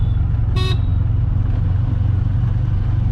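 An auto rickshaw's engine drones low and steady while driving on a road, joined early by a short, sharp horn toot from a nearby vehicle.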